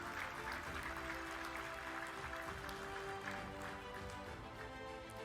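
Sustained applause from a large audience at a convocation award ceremony, a dense, steady wash of clapping filling the hall for several seconds without pause.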